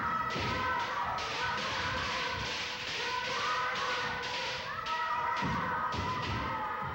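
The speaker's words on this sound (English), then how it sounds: "Kendo is a fast-moving sport that calls for steady nerves and quick reflexes as the players attack and defend themselves against a variety of strikes and thrusts" Kendo players strike at each other's armor in a martial arts bout, producing repeated dull thuds and taps at an uneven fast pace, close and fairly loud over a steady background.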